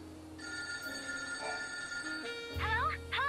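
A phone booth rings in the Lightning Returns: Final Fantasy XIII video game, a faint electronic telephone trill heard among quiet game ambience and music tones.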